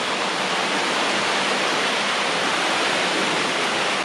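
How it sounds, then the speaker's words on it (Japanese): Water pours down stone steps like a river above a limestone cave on Okinoerabu Island, a loud, unbroken rushing roar that stays even throughout. "なんか階段に水がじゃんじゃん流れてんのよ。"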